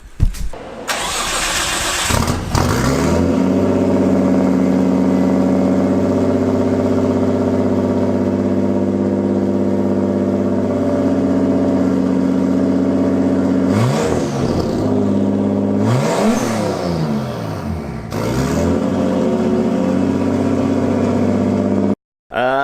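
A Nissan 240SX S14 with a straight-piped RB25 engine starts with a brief crank, then settles into a loud, steady idle, punctuated by a few sharp revs near the end.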